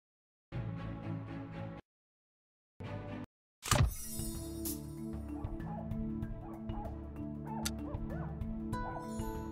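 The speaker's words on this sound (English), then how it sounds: "The barking is coming from behind this door." A Pomeranian barks from behind a closed door in a Nancy Drew video game, two short bursts of yapping, a sharp thunk, then a steady run of muffled barks and whimpers against a game soundscape.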